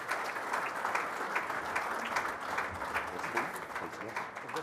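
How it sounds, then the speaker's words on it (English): An audience at a morning conference applauds the keynote speaker's welcome, a steady wash of many hands clapping with small swells, held for several seconds at modest level. "Round of applause, please."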